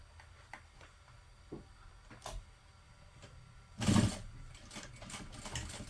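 A sewing machine stitching close to the fold of fabric, with soft intermittent ticks and a louder mechanical burst partway through, quiet and close.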